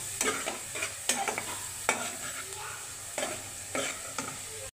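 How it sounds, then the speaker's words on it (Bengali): Cumin and coriander powder stir-fried in a pan, a soft continuous sizzle punctuated by repeated sharp scraping stirs at an irregular rhythm, close with no voices. "একটু জিরে গুঁড়ো, ধনিয়া গুঁড়ো সবগুলো ভালো মতো কষিয়ে নেব।"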